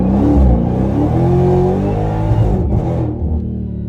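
A Dodge Demon 170 launches on the street, its supercharged engine roaring loud and close as it accelerates hard, pitch climbing through a gear before easing slightly near the end.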